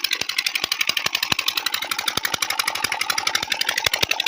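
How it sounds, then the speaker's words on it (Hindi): A diesel tubewell pump engine running in a village, a loud, fast, even thumping beat with a metallic rattle that holds steady throughout, close by and alone. "ट्यूबवेल भी चल रहा है"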